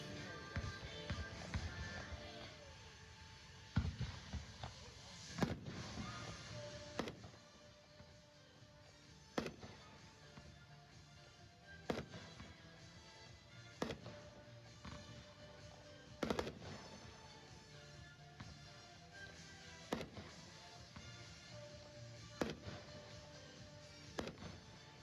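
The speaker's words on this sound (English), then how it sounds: "Gives you an idea of the total height and the type of fireworks display." A fireworks display goes off in repeated sharp bangs and crackles spaced every couple of seconds, heard from a distance over a low background wash for about twenty-five seconds.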